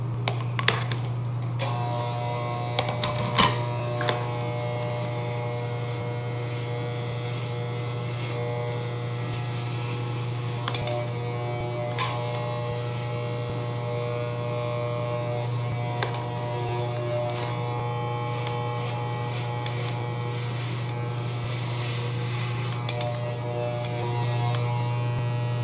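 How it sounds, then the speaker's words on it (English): Electric hair clippers shaving the sides of a head, a steady close motor buzz and hum that runs unbroken and alone throughout. "I'm just gonna shave the sides off now"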